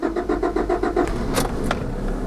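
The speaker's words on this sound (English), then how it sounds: "When the car starts." A Honda car's engine cranks and catches, a short starter whir giving way to a steady close idle rumble with a couple of brief clicks.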